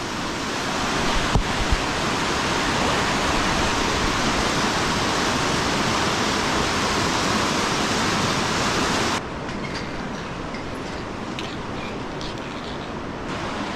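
A fast-flowing river along a mountain trail near Pinchot Pass rushes in a loud, steady broadband roar with no pauses, then sounds slightly softer and more distant near the end, with no voices.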